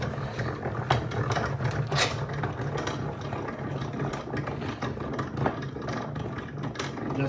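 A honey extractor spins frames of honeycomb in a steady, continuous mechanical whir with a low hum, fairly even in loudness, with occasional faint knocks.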